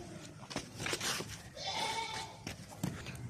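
A sacrificial goat bleats up close in a village setting, with a loud wavering cry in the middle and a few shorter calls around it, set against rustling background noise.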